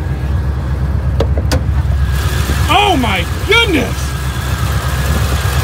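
A supercharged 2008 Ford Mustang 4.6 GT with a Kenny Bell twin-screw Stage 1 setup revs sharply twice over a rumbling idle, each blip rising and falling quickly, with a person exclaiming excitedly at close range.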